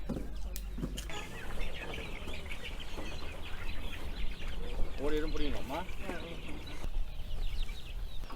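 Chickens cluck and call close by among people at a handout of chicks as livelihood aid in Mullaitivu; voices chatter throughout under the birds' repeated clucks.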